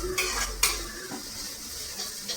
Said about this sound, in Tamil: வெங்காயம் நல்லா பொன்னிறமாக வறுத்துக்கலாம்